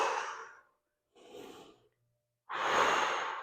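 Breathy exhales during a glute bridge exercise, three separate close breaths with short silences between, the last one longest and strongest.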